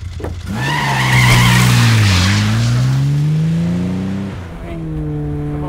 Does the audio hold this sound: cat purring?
no